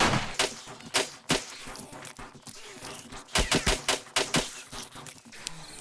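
Rapid 9mm pistol gunfire in the survival game 7 Days to Die, with irregular sharp shots in bursts, some clustered close together, plus metallic clanks between them, no talk.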